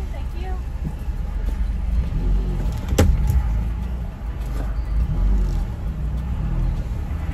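Car interior while driving, a steady low road and engine rumble with a sharp click or knock partway through, under people talking.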